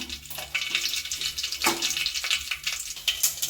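Mustard seeds crackle and sizzle in hot coconut oil in a pan, a close, steady frying hiss with scattered sharp pops and a brief louder burst partway through.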